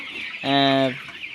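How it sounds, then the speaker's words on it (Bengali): A single drawn-out call from a chicken on a broiler poultry farm of about seven hundred birds, one clear, tonal cry lasting around half a second over a low background hum. "আমার এখানে টোটাল মুরগি ছিল হচ্ছে আপনার সাতশো পিস"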